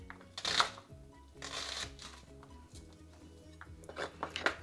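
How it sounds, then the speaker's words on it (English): Knife chopping an onion for a vegetable lasagna, a series of crisp, irregular cutting strokes in quick bursts, close and fairly quiet with a steady low hum underneath and no talk. "So I'm going to cut up the onion."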